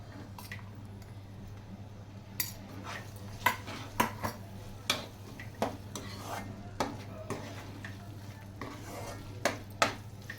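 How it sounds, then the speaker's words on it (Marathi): Mung beans added to a pan of roasted spices: scattered clinks and scraping of a utensil against the pan, irregular taps over a steady low kitchen hum, close by. "आता याच्यामध्ये मी टाकते मूग"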